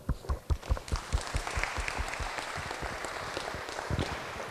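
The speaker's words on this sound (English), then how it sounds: "Let's give them a round of applause." An audience at a history presentation claps together, loud at first with distinct hand claps, then settling into a steady, even round of applause.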